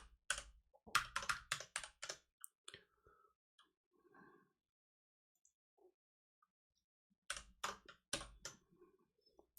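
Quick bursts of clacking keystrokes on a computer keyboard while coding in Haskell, close and soft. A stretch of near silence with a few stray taps separates the bursts before a final flurry of typing.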